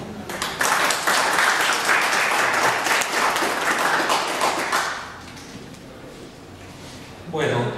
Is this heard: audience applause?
yes